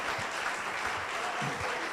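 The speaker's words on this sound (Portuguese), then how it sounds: "Aplauda o Senhor Jesus pela igreja que foi edificada." Church congregation applauding during a Portuguese-language sermon, a continuous wash of many hands clapping at moderate distance with no pauses, steady in level from start to finish.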